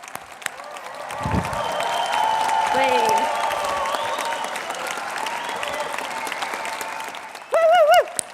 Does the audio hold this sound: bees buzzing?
no